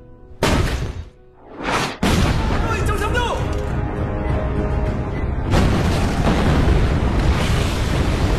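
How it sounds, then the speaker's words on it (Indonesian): A sudden deep boom bursts out, followed by a long, loud roaring rumble that fills the rest of the clip, close and overwhelming. "terjadi ledakan yang sangat amat dahsyat"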